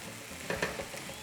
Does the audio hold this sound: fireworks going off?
no